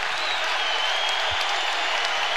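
A packed Rupp Arena crowd at a Kentucky vs Kansas college basketball game roars in a steady, dense wash of cheering and applause that holds loud throughout.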